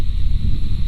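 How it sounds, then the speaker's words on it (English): Wind buffets the microphone in a low, rumbling roar, with a thin steady whine above it and no other sounds. "Even on a slightly windy day outside"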